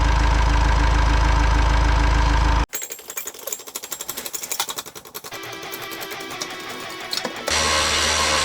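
A Honda CR-V 2.2 i-DTEC diesel engine runs after an engine swap, a dense clattering idle with rapid mechanical ticking heard up close, broken by a loud roaring stretch at the start and end.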